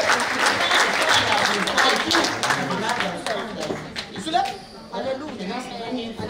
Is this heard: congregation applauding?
yes